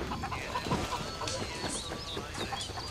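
Chickens in the Ghost Recon Wildlands video game cluck in quick, irregular bursts, a few nearby hens layered over steady outdoor ambience.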